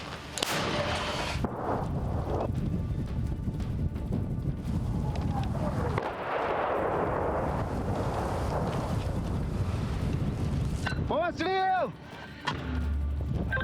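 A loud, booming artillery gunshot rolls out over constant heavy wind noise at a frontline position, with a voice speaking Ukrainian and whistling sounds near the end.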